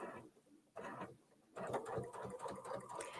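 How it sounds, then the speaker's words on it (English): A sewing machine with a dual feed foot stitches binding onto a quilt, a soft, quick mechanical patter that starts, pauses briefly, then runs steadily and faintly. "I'll lower the presser foot and I'll just start sewing."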